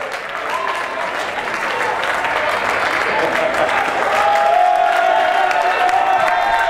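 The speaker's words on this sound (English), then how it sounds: "Big round of applause." Audience at a boxing exhibition breaking into sustained applause, a dense wash of clapping that swells slightly and holds steady throughout, with faint cheering mixed in.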